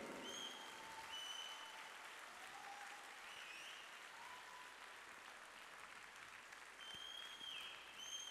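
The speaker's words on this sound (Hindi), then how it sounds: "तो तालियां भैया ढंग से होनी चाहिए।" An audience claps at a fourth anniversary celebration, giving steady, sustained applause that sounds fairly distant and soft, with some faint whistles over it.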